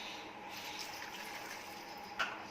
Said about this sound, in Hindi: और इसमें 1 कप पानी डालना है।